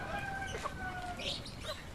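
Chicken clucking in a yard, a rooster that looks like a hen, with steady soft clucks and faint chirps under a constant background hum, fairly close and moderately loud, no clear talk.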